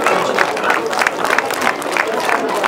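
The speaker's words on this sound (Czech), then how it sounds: "A ostatní tleskají." Clapping from parents and children at an under-six rugby awards ceremony, a close, steady patter of many hands under chatter and a speaking voice, lasting throughout.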